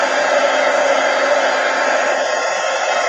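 A heat gun blows hot air onto a soaked art book, giving a steady, loud whooshing roar that holds constant for the whole stretch with no talking.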